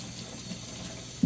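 Tap water runs briefly over onions in a kitchen sink, a soft, faint splashing stream with a small knock at the very end.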